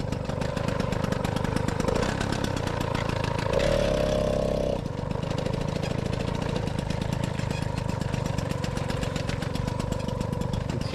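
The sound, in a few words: moped engine running with Doppler ER1 exhaust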